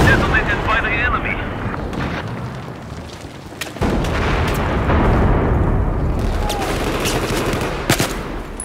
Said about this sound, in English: The bomb has been detonated by the enemy.